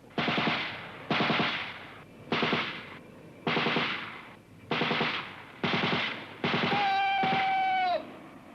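A machine gun group firing, loud repeated bursts of rapid shots in a steady rhythm with short gaps, the last burst longer and overlaid by a whistling tone.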